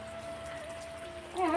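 Rain falls steadily in a broad, even wash of droplets, close and moderately loud, with a faint tonal hum underneath and a short louder splash near the end.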